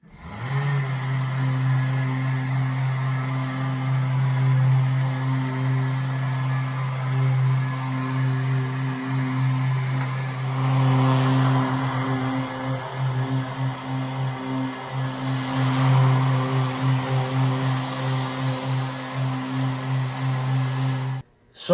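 A power sander buffing an oil-finished wooden table hums in a steady, loud motor drone that runs unbroken for about twenty seconds, with slight swells in pitch as the pad moves across the surface and no talking.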